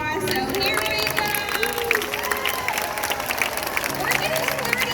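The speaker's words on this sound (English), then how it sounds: "everybody gives a big round of applause" An audience at the SeaWorld San Diego Orca Encounter show claps steadily in a sustained round of applause, with crowd noise and some cheering mixed in.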